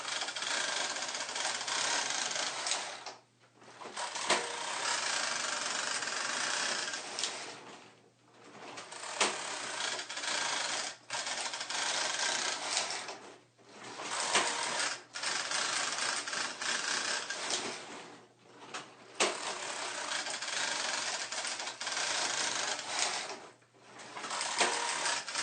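A knitting machine working on two beds, with its carriage making long, steady mechanical whirring passes that are evenly loud and broken by short pauses at the end of each row, heard alone without talk.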